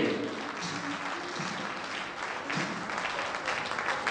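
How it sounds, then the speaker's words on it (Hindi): Steady, sustained applause from an audience at a Hindi-language speaking event, dense clapping filling the whole stretch at a fairly even level, with faint voices mixed underneath. "जोरदार तालियां उनके लिए।"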